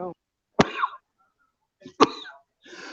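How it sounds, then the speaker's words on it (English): A man coughs twice in an online talk: two sharp, close, dry coughs about a second and a half apart, with short breathy throat sounds after each and silence in between. "I don't mean to be coughing on y'all here."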